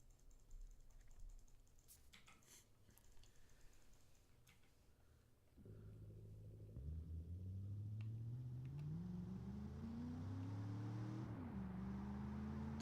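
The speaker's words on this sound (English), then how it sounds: "That's quite a muffled V8 noise." In the BeamNG driving game, a muffled V8 from a 1961 car on narrow 165 mm tires cranks into life after a few seconds of quiet clicking, then revs in rising and falling sweeps, loud and up close.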